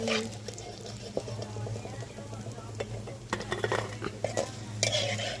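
Small fish and curry leaves fry in a pan while a utensil stirs and scrapes against the metal, producing sizzling with irregular clinks and knocks, moderately close, with no voices.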